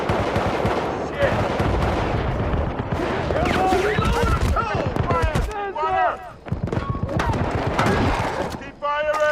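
Battlefield: Bad Company combat, with dense machine-gun bursts and rifle fire crackling continuously over distant explosions while soldiers shout throughout.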